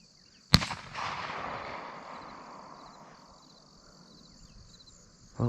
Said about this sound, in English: Great shooting, fellas.